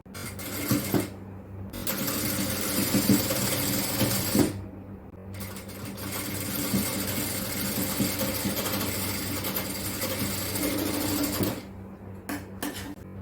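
Domestic sewing machine stitching lace along the seam of an XXL yoke nighty, a steady close mechanical whir with brief pauses between runs.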